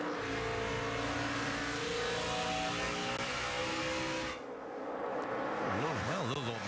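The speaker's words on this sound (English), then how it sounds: "Battle for 3rd, side by side, is Kyle Busch right there with the 48." NASCAR stock cars racing side by side at Phoenix, engines roaring steadily and then dipping as the cars pass, the pitch wavering up and down at the end, with a commentator talking over it.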